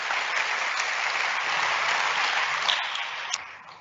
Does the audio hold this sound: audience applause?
yes